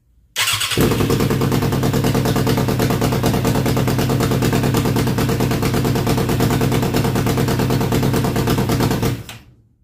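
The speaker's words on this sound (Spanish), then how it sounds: "Yo voy a prender la moto" A 1998 Suzuki 750cc motorcycle engine fires up and settles into a loud, rapid, steady running rumble close by for about nine seconds before cutting out abruptly.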